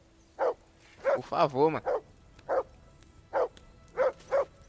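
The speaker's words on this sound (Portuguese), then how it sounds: "Ô cachorro do caralho. Cala a boca." A dog in Kingdom Come: Deliverance 2 barks in a series of short, separate yaps with a whining, wavering cry in the middle, while a person talks over it.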